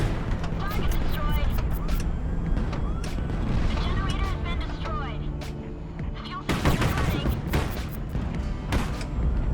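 A warship in the naval strategy game Highfleet fires a full barrage, heavy continuous cannon and missile fire with booming blasts layered over each other, a louder volley surging near the end.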